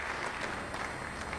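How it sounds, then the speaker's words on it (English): Steady applause from a crowd at a 2007 World Masters tenpin bowling match, a dense continuous patter of clapping filling the whole moment at an even, moderate level. "Enthusiastic support and applause."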